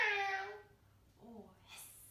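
Voices of a children's yoga group imitate a cat's meow: one drawn-out, falling meow, then a softer second meow, with faint hiss-like breath at the end.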